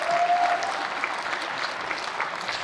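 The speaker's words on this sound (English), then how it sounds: "Let's give those guys a round of applause." Audience applause for sponsors at a chamber of commerce celebration, steady dense clapping filling a large room throughout, fairly loud with no talk over it.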